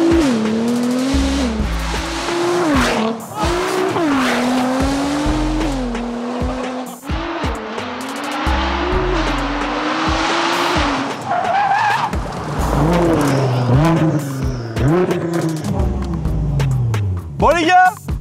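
Nissan GT-R R35 engine revving hard outdoors by a roadside, its pitch rising and falling in repeated roaring sweeps, loud and near, with a possible tire squeal.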